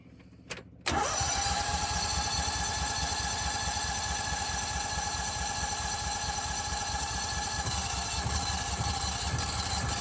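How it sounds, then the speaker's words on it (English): An ARGO 6x6 amphibious vehicle, a barn find with faulty wiring, cranks briefly and catches, then its engine runs at a loud, steady idle with a fast, even pulsing close by. "We got a runner, Wayne."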